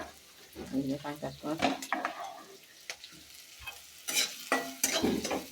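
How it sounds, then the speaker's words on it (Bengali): Onions fry in sizzling oil in a pan while a utensil stirs and scrapes, with clinks of metal against the pot; fairly close and moderately quiet. "এখন এই যে পেঁয়াজগুলো ভাজা ভাজা করতেছি ওই তেলের মধ্যে"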